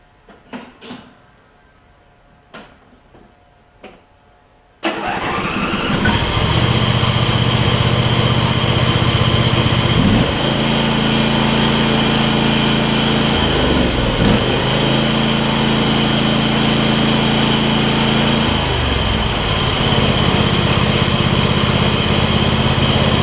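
MTD Craftsman PYT9000 riding mower that sat unused for many years, a few faint clicks and knocks, then the engine starts suddenly and settles into a loud, steady idle with small dips in pitch.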